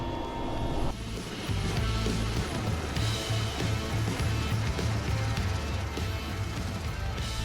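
An Mi-8 helicopter during a training flight makes a loud, continuous engine and rotor roar with a pulsing throb, heard close and steady throughout with no voices.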